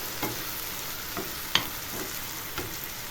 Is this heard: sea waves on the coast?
no